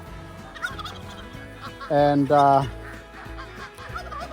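Turkeys gobble loudly together in a long burst on a New Zealand homestead farm, a rapid rattling call rising from a quieter background of other birds, with brief speech nearby.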